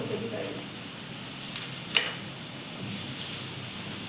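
An evening snack of spicy chilakavare beans frying in hot oil in a home kitchen: a steady, soft sizzle and hiss throughout, with a faint clink near the middle and voices talking over it.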